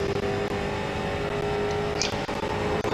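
Street stock race car engine held at full throttle on Bristol's track, a loud, steady droning roar heard from inside the car without a break, with faint clicks and rattles over it.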